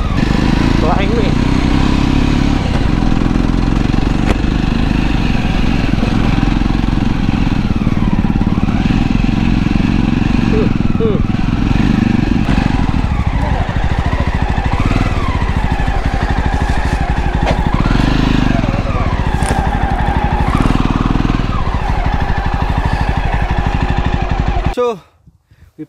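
A motorcycle rides up an extremely steep road to Khangkhui caves, its engine droning loud and steady with wind buffeting and rattles, and people talking over it, before cutting off abruptly at the end.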